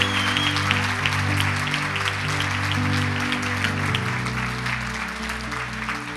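Women at a church gathering applaud the Lord, steady crowd clapping, loud and close, over sustained organ or keyboard chords that hold throughout.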